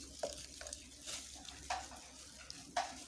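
Homemade liquid soap made from oil and lye is stirred in a container, producing faint sloshing swishes and a few light scrapes at an uneven pace.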